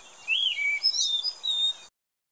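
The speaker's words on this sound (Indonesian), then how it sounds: "Burung anis bentet kecil." A little shrikethrush (Colluricincla megarhyncha) sings a short run of clear, high whistled notes with rising and falling slurs, close and isolated against quiet forest background before cutting off.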